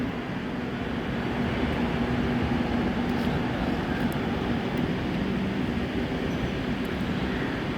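A passenger train from Howrah rumbles steadily past nearby in the early morning, a loud continuous roar with a low hum that holds throughout.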